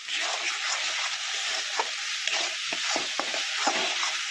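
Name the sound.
sautéing spices: salt, chili powder, turmeric, cumin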